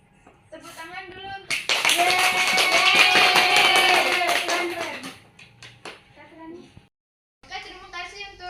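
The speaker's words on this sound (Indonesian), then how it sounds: "Tepuk tangan dulu." Classroom group clapping in applause, a dense burst of many hands swelling for a few seconds then fading, with voices chattering before and after.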